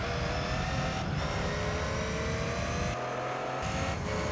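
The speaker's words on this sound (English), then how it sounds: "Do you like the sound of this car?" Race car engine from Gran Turismo 3, a steady sustained drone with a constant mid-pitched hum held at even loudness, with brief dips in intensity but no clear revving or passing sweep.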